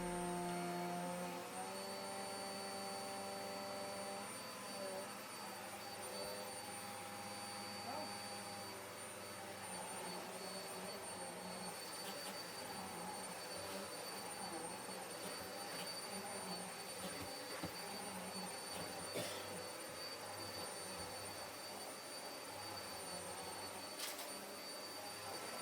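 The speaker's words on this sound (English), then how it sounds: "it's time to vacuum this rug up" A vacuum cleaner drones steadily at moderate distance, its whine holding constant with occasional shifts as it works over a surface.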